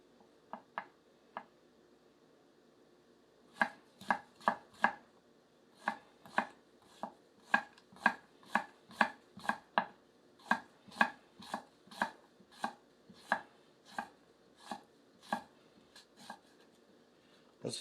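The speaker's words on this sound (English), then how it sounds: "the potato test is going pretty well. It slices clean through," A Daovua Pipeline Nakiri knife chops through a potato on a board, first a few sparse cuts and then a long, steady run of crisp, evenly spaced thunks, close and quiet, with no talking.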